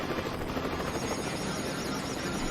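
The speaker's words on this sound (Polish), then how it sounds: "Super helikopter?" A steady, dense mechanical whir like a helicopter's rotor and engine, continuous and fairly loud with no pauses, no voices present.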